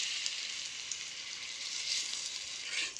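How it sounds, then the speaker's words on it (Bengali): Small moringa leaf pakoras frying in hot oil in a kadai, a steady, close bright sizzle with crackling pops running continuously, no voices. "এখন আমি একটা একটা করে ছোট ছোট করে ভেজে নেব।"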